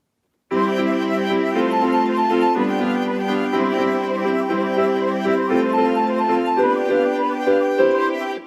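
A Casio CT-X5000 keyboard plays back several recorded tracks together as a full orchestral arrangement, with sustained layered chords and melody heard steadily and loudly without any talking.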